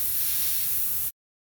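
An airbrush sprays paint onto a shark stencil in one steady, close hiss lasting about a second before cutting off abruptly.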